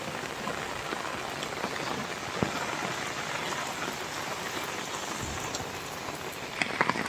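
Steady rain patters across a quiet village, a dense even hiss of drops on surfaces with a few sharper close splashes and no voices.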